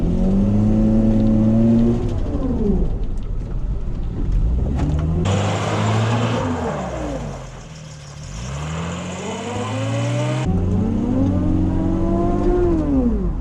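A car engine revs hard and repeatedly while drifting, pitch sweeping up and down as the throttle is worked, with a burst of tire noise in the middle as the wheels break traction.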